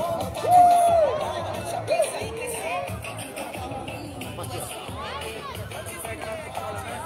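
Football fans at a FUT7 cup final: distant crowd chatter and occasional whoops under close, steady talk.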